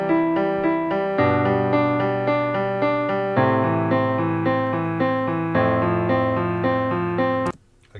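Sustained piano chords of a pop ballad played back from a DAW, a steady progression changing chord every couple of seconds, clear and alone, cutting off abruptly near the end.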